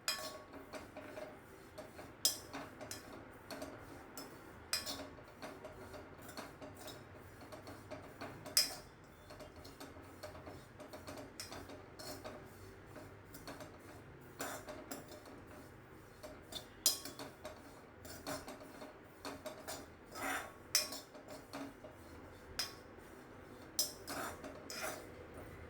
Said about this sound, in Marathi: हा किस आपल्याला गुलाबीसर रंगावर थोडासा परतून घ्यायचा आहे